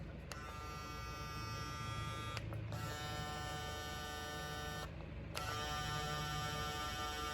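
A Gamma+ X-Ergo hair clipper with a magnetic or microchip motor runs in steady, close buzzing bursts, stopping briefly twice between runs with no talking.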